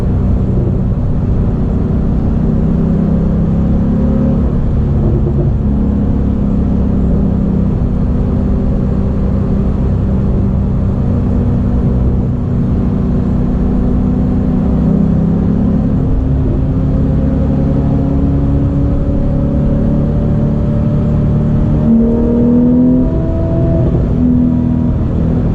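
Porsche 911 rear engine accelerating hard out of a turn on a winding road, heard from inside the car as a loud, steady engine drone that rises in pitch as it revs, with no talking.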